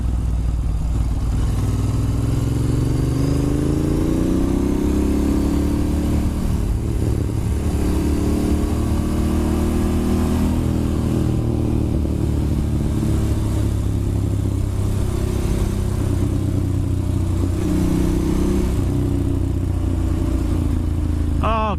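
A Ducati Monster S2R 1000 motorcycle rides along a road on a Sunday outing, its engine droning steadily up close with rising and falling revs throughout, mixed with wind rumble.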